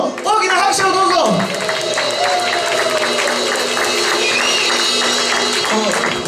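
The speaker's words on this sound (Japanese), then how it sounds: "皆さん、ベースの恋です、どうぞ大きな拍手をどうぞ。" Audience applause at a hard rock night for a bass player returning to a cover band, a loud, steady wash of clapping with some shouts, heard over band noise and a held instrument tone.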